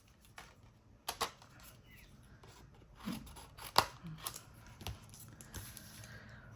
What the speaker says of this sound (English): I'm just going to get my snips and just trim that off